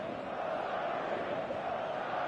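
Steady, dense roar of a stadium crowd before kickoff in a football video game, continuous broadband murmur and chanting with no single voice standing out.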